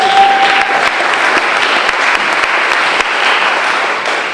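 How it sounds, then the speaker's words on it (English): A debate audience at the 2018 Massachusetts gubernatorial debate breaks into loud, dense applause, a continuous roar of many hands clapping at an even level from start to finish. "So give yourselves a round of applause."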